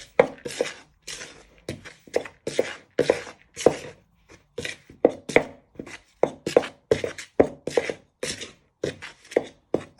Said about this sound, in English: with a knife, you want to bind it in. Do like a chop action